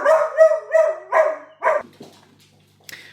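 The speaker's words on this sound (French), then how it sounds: "Alors la chienne a aboyé." A female dog barks five times in a steady, loud series of sharp, close yips, followed by quieter scuffling and one brief high sound at the end.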